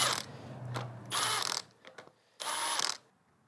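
A ratchet works on the high-pressure fuel pump bolts of a GM 5.3L/6.2L V8 engine during teardown, making two distinct bursts of rapid clicking with quieter mechanical fiddling between, close up and with no talking.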